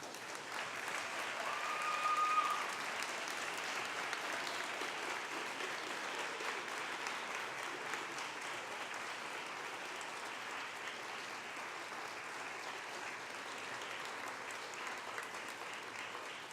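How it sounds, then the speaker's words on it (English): Sustained applause from a graduation ceremony audience for the graduating class, a steady wash of many hands clapping at moderate distance, swelling slightly near the start and then holding evenly throughout. "applause for what they've done."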